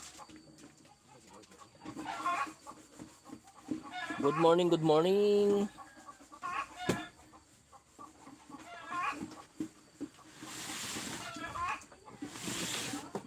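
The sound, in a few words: chickens clucking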